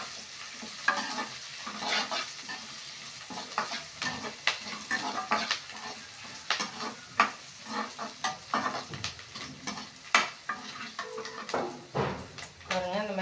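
Dried red chillies fry in a pan while being stirred, with irregular scraping and clattering of a spoon against metal over a soft sizzle, close and uneven in rhythm.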